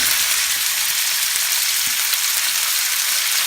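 Salt-and-pepper seasoned steak sizzles in hot oil in a pan, a loud, close, continuous crackling hiss with faint pops and no talking.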